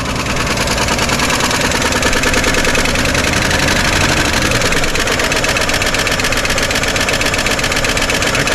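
A 1955 Chevy engine idles steadily and smoothly, loud and close, with a faint, regular tapping ticking through the even running throughout.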